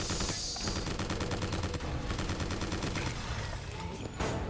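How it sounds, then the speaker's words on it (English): Fast, regular machine-gun fire in the video game BioShock Infinite: Burial at Sea, a steady rattling stream of shots with a few sharp bursts, continuous and fairly loud throughout. "Who's shooting?"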